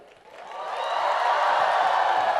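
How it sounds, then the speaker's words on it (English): Audience at a campus cultural language festival bursting into applause, a dense wash of clapping that swells quickly and holds steady, with faint cheering mixed in. "Let me hear another round of applause"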